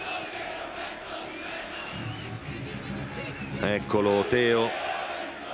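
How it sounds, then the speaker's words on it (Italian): Football fans chanting in the stadium at an Empoli versus AC Milan Serie A match, a broad crowd roar under live commentary that rises into a louder, sustained chant toward the end. "si fanno sentire prima i tifosi dell'Empoli, adesso i nostri con un bel canto"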